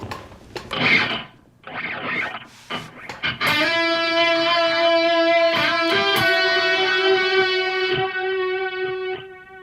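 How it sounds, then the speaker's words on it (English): After some scraping and handling noises, a sustained guitar note rings out through a delay effect with a Decimator II noise gate, its repeats holding steady and lingering for several seconds. "now I will just put on a delay sample just so you can hear it's not cutting off them delays"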